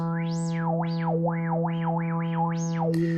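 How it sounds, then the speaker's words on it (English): A buzzy synth tone with a resonant filter swept up and down repeatedly, giving a squelchy, wah-like whistling sweep that rises and falls several times. "If I move it with the resonance,"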